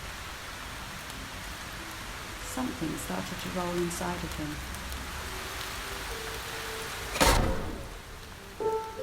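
Steady rain hisses throughout, with someone narrating over it and a brief louder splash or gust near the end.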